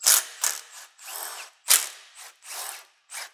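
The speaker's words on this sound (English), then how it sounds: "And now we're just gonna do the flange bolts." A ratchet wrench loosens exhaust flange bolts under a car with a supercharged Mercedes E55 wagon, giving close, loud bursts of rapid clicking in several short runs with brief pauses between, no voices.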